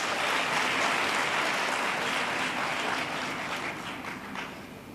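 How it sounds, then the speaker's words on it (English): An audience at a youth gathering applauds themselves, a continuous wash of many hands clapping that holds steady and slowly fades, sounding full and roomy without any talk. "Please give yourselves a round of applause."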